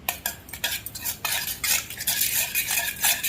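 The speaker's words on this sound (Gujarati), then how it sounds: "અને હલાવીને મિક્સ કરી દઈએ." A spoon stirs yogurt into a cooled spiced tempering in a pan, making repeated close scraping and clinking strokes against the metal in an uneven rhythm, with no talking.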